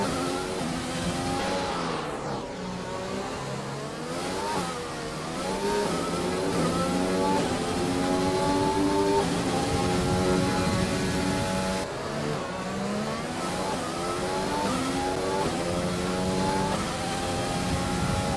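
Formula 1 car engine in the F1 2020 video game at Monaco, high-pitched revs rising and falling through repeated gear shifts, loud and continuous with no talking.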